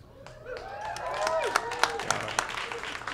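A stand-up comedy crowd at a late-night show bursts into scattered clapping mixed with whoops and cheering voices, sustained for a few seconds at moderate distance.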